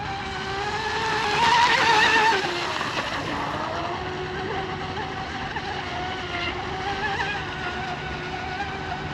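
A J&R Marine H26 RC hydroplane boat runs on water at half throttle, its electric motor giving a steady high whine that rises louder in the first seconds, then holds an even, slightly wavering pitch as it moves off.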